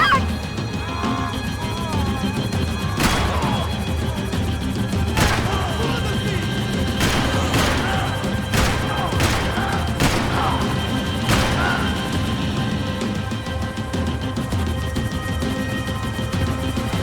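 Sporadic sharp gunshots in Max Payne 3 during a vehicle chase, several distinct cracks spaced a second or two apart over a constant engine rumble, with shouting voices mixed in.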